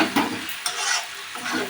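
Ground spices being stirred into chicken in a frying pan for dry chilli chicken: a few scraping stirs over a steady close sizzle, loud and busy with no voices.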